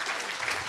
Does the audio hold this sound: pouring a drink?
no